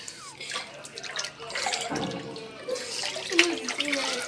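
Warm water splashing and trickling while a rescued cat is bathed, close and uneven, with small pours and drips over a quiet background.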